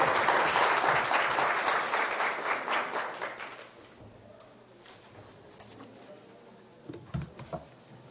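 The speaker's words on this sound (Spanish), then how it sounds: "Recibamos con un caluroso aplauso y deleitemos académicamente con la ponencia de la doctora Marsha" An academic audience gives a warm round of applause to welcome a lecturing doctor before a nutrition talk, loud and dense at first, then thinning out around four seconds into scattered faint claps and room noise.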